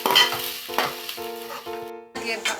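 Chopped onions for a spicy methi chicken curry fry and sizzle in a pan, stirred with a few quick metallic scrapes and clinks, fairly close and loud.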